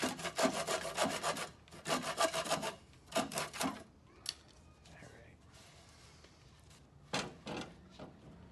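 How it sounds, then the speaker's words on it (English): A handsaw cutting wood on a custom stair post, with close, loud rhythmic back-and-forth strokes in two bursts, a pause with quieter handling, then a few final strokes. "we'll get our handsaw and take the rest of that off"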